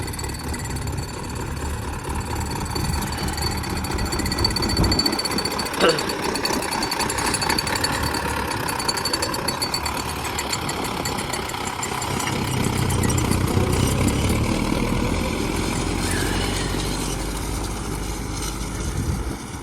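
A tractor engine idles steadily throughout in a field during soybean sowing, a low rumbling drone with some mechanical rattle and vibration; a voice talks intermittently over it.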